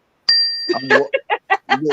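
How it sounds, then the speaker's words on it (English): A single bright bell ding rings out, followed right away by a voice talking over its fading tail. "Where the bell at?"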